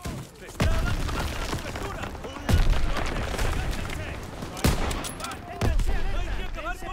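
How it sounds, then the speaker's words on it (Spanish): Rapid gunfire from the World War II shooter Call of Duty WW2, with loud bursts and sharp booms repeating through a forest battle, continuous combat noise throughout. "¡Disparos!"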